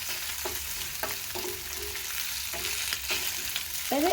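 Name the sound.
dry frying goat meat (mbuzi) with garlic until brown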